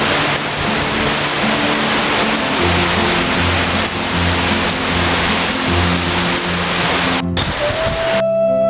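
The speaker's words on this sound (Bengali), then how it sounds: "সময় যতই যাচ্ছে ততই দেখতে পাচ্ছি বৃষ্টির তীব্রতা অনেক বাড়ছে," Heavy rain pours steadily onto a village rooftop with gusting wind, a dense continuous hiss throughout, with a faint tonal hum entering near the end.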